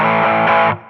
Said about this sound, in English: Some super common effects are distortion,